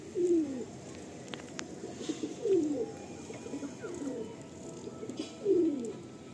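Madrasi and Andhra pigeons coo softly in three low, rolling bursts spaced a few seconds apart, close by, with faint background noise between calls.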